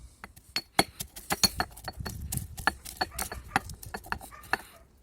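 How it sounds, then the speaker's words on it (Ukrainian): Garlic and walnuts pounded in a mortar with a pestle, a quick irregular run of sharp knocks and clinks, close and loud. "Зараз нам потрібно в ступці перебити чесничок з горішками"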